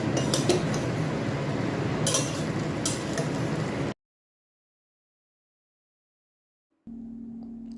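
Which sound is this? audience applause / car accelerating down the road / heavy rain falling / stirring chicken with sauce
stirring chicken with sauce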